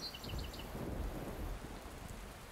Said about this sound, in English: Then it started to rain.